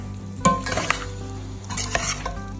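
Sisig being stirred in a hot pan with salt and black pepper, giving two bursts of sizzling, scraping stir strokes with light utensil clinks against the pan, close and moderately loud.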